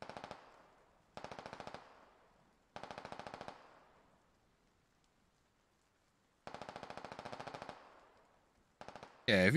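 Automatic weapon fire in the military shooter game Squad, several loud, rapid bursts of gunshots separated by short pauses, close, with one sharp final burst at the end.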